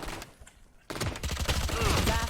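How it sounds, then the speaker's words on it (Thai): Rapid gunfire in the tactical shooter game Valorant breaks out suddenly after a quiet moment, a dense, loud stream of shots that keeps going to the end, with a voice talking over it. "มันยิงตรึดตรึด"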